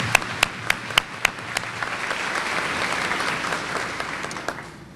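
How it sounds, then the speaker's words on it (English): A luncheon crowd applauds the Pilot Club, several sharp claps leading into a sustained, even round of applause that tapers off at the end. "I would like to give one big round of applause again to the Pilot Club for everything they do."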